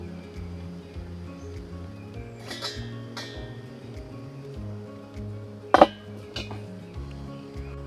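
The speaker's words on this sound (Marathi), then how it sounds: "आता आपण हे मोदक पात्राचं झाकण उघडून घेऊया" The metal lid of a modak steamer pot is lifted with a sharp clink of metal on metal. Softer clatters come before and after it over a quiet, humming kitchen background.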